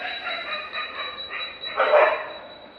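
Dogs at a railway station at night, one bark setting off a pack of about four, barking faintly and far off, with a louder burst near the end.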